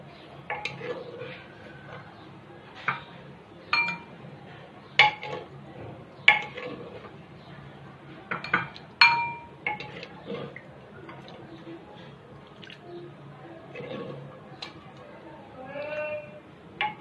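Chicken and taro curry is served into a dish with metal utensils, giving scattered sharp clinks and taps against the dish amid soft scraping, close and intermittent over a quiet room.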